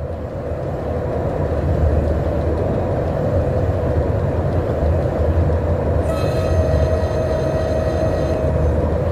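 An electric train runs in the Open Rails simulator game on the Poznań Główny route, a loud steady rolling rumble that holds throughout, with a thin high whine joining near the end.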